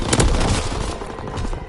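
Dense burst of gunfire and explosions from a World War II battle in the video game Call of Duty WWII, loud and continuous with overlapping booms and rapid shots throughout.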